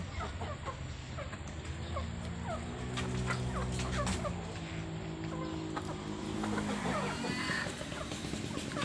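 Chickens clucking at a rural feeding spot in Thailand, with repeated soft clucks and calls close by over steady outdoor background noise, while someone talks over them.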